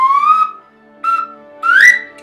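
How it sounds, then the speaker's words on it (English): A handheld broad-diameter Lamy birdsong whistle blows three clear, bright notes, a long rising tone followed by two shorter ones, each slightly higher and airy, played close up. "if I go up higher in the range of this broad diameter whistle"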